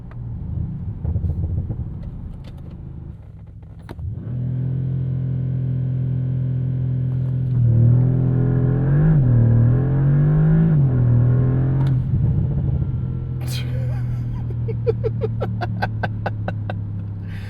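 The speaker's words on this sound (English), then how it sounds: "Launch control of this car is wild" A 2027 Bentley Continental GT S 671hp V8 coupe idles, then revs hard on launch control and roars up through rising PDK gears, loud and close, settling back to a steady rumble with a few clicks at the end.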